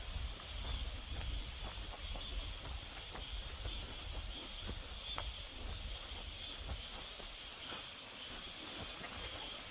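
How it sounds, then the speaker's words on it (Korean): Mountain valley stream near a rural house, a faint, steady broadband hiss of flowing water with scattered ticks and soft clicks over a low rumble, no voices. "가까운 거리에는 계곡물이 잘 흐르고 있습니다."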